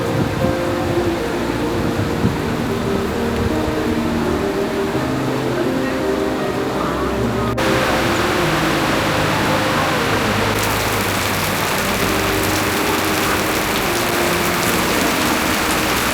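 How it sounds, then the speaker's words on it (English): Rain falls across the grounds of Wat Mahabut temple in Bangkok in a dense, continuous patter that stays loud and steady throughout, with no talk over it. "Watching the rain fall across the temple grounds"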